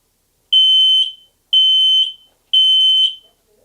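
A household smoke alarm sounds three loud, piercing beeps, each about half a second long and evenly spaced a second apart, with nothing else around them.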